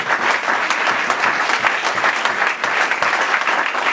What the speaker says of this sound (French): Est-ce que tu peux acclamer très fort pour la gloire de Dieu?